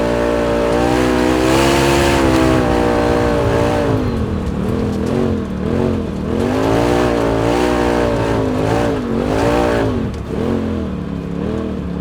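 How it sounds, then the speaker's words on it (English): Polaris RZR Pro XP side-by-side with an MBRP PT dual stack exhaust, engine revving loud and close with a steady roar that climbs and dips through repeated throttle swells, no talk over it. "the PT version or dual stack version is definitely going to give you more of a pronounced exhaust note"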